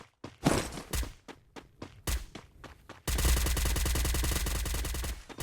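Video game gunfire: a handful of separate sharp shots, then a sustained loud burst of rapid automatic fire from about the midpoint to the end, with no talk over it.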